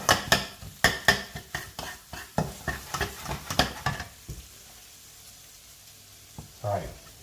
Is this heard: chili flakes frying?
yes